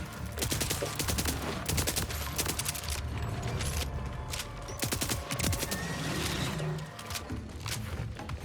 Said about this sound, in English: let's go with the submachine gun instead